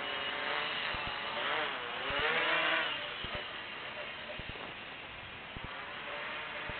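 A car engine idles and lugs at low RPM with a rough, droning hum and faint periodic knocks, steady and close inside the cabin, with a brief rise in pitch early on.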